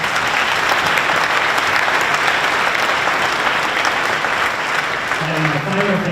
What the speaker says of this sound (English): How about a round of applause for them?